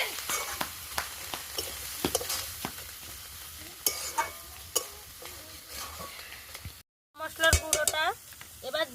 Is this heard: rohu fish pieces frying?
yes